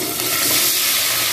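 Paneer pieces frying in hot refined oil seasoned with a little turmeric and salt, giving a steady loud hiss and sizzle that stays close and continuous with no talking.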